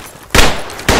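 M203 grenade launcher firing in a video game, two loud broad bursts about half a second apart, each a sudden heavy blast with a sustained rumbling tail.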